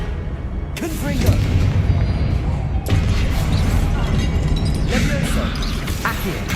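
Confringo blasting spells cast in a Hogwarts video game: two heavy booming blasts, one near the start and another midway, each followed by a dense, rumbling crash that fills the rest of the clip with loud battle noise.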